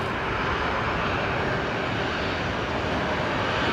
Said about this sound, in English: We got a Fokker 70 on the move here. Just pushing back.